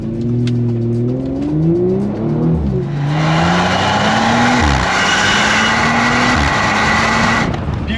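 An Audi RS5 ABT 1/50 biturbo engine, 530 hp, revs and accelerates hard, pitch climbing through gear changes before settling into a loud, sustained roar close by.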